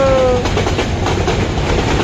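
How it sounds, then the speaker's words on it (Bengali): A long train passes at close range, with a brief tonal horn note at the start giving way to a loud, steady rumble and rattling wheel clatter. "অনেক বড় ট্রেন, অনেক বড়,"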